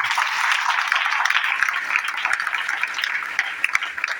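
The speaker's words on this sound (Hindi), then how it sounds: "तो एक जोरदार ताली सर के लिए।" Steady applause from an audience honouring a dynamic leader at a DXN network event, a dense clatter of many hands at moderate level that holds for about four seconds.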